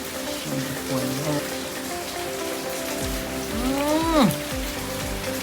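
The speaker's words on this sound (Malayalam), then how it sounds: "നല്ല മഴയാണ് കേട്ടോ" Steady heavy rain in Wayanad patters and hisses throughout, with faint tonal sounds and a brief rising-and-falling whine near the end.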